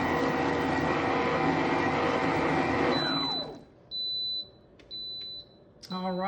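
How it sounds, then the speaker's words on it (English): A kitchen mixer whirs loudly and spins down. A few short electronic beeps follow to signal the end of mixing, then a voice starts speaking. "you get this great beeping noise to let you know, hey, it's over, come check me out"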